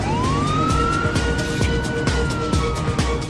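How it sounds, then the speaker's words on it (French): Fire truck sirens wail as the vehicles race onto an airport runway, a rising then sustained tone carried over the rumble of heavy engines, loud and close throughout. "9 camions de pompiers viennent de toute urgence se poster sur une des pistes de l'aéroport"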